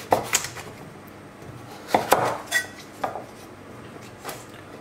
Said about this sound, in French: Vous avez évidé le potimarron. On va venir le couper comme ceci.